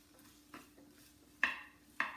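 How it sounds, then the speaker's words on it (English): Garlic, mushrooms and broccoli stirred in a stir-fry pan, with a few sharp spatula scrapes and clinks against the metal over a quiet background, two louder strikes near the end. "So here goes garlic and mushrooms. We'll give this a quick stir."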